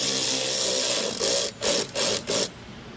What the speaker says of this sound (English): we're going to take a fender washer and another 10mm bolt here, and we're going to put that thing right into that mounting location there